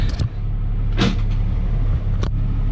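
4th Gen Cummins 6.7 diesel in a drag truck idling with a deep, steady rumble close by, broken by a few brief hissing bursts.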